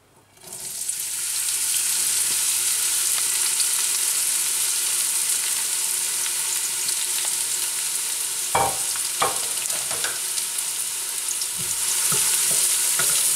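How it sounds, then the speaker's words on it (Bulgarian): Onion and garlic hit hot oil and flare into a loud, steady sizzle that holds for the whole span. A few sharp clicks and scrapes from stirring break in partway through. "започваме да запържваме продуктите"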